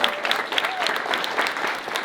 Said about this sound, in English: Let's give a round of applause to all the performers.